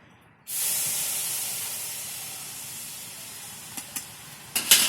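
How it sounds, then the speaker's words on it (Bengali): Sugar syrup poured into a hot wok: a sudden loud hiss erupts and sizzles steadily, slowly fading, with a few small clicks and knocks near the end. "এবার এই রসটা কড়াইতে দিয়ে দেবো"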